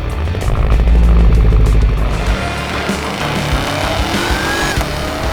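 A Cadillac Escalade V, a 680 hp performance SUV, launches hard on a racetrack, its engine roaring loud and close with a rising, sustained acceleration howl and a brief tire squeal.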